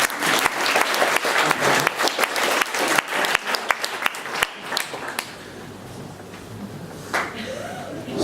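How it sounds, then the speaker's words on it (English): A conference audience at an event in Vilnius breaks into a sustained round of applause, dense and loud at first, then thinning to scattered claps and fading out. "When he finishes, a round of applause for another 5 to 6 seconds."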